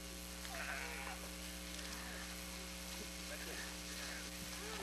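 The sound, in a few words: sheep bleating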